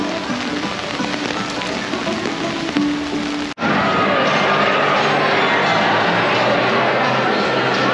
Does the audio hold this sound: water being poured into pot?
no